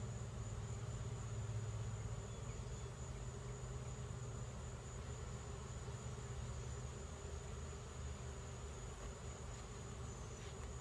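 Bees buzz around an open-air colony in a low, continuous hum that sits faint and steady under a constant outdoor background, with no voices.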